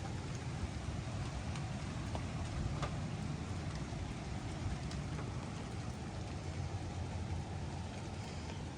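Hail or rain falling steadily outdoors, a dense, continuous patter and hiss that stays loud and even throughout with no voices.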